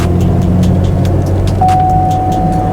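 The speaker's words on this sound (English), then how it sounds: "I felt the transmission shift and it didn't jerk." Road noise from a GM car cruising after a speed sensor replacement, a steady loud engine and tire drone with a faint rising whine as the transmission shifts smoothly without a jerk.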